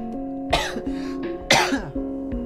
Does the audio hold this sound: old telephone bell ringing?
no